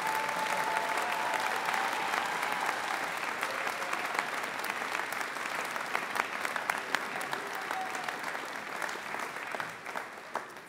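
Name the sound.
graduation ceremony audience applause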